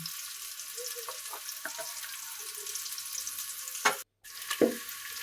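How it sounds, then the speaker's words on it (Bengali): Onion with chopped ginger frying in a pan for pilaf, a steady soft sizzle with a few scraping stirs and a brief dropout near the end. "এই পর্যায়ে ভালো করে নেড়ে চেড়ে ভেজে নিতে হবে লাল লাল করে"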